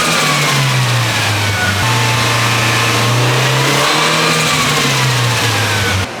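Turbocharged SR20DE engine in a Nissan Silvia revs hard on a dyno, loud and close, climbing through sustained pulls with brief dips between gears or lifts, droning steadily throughout.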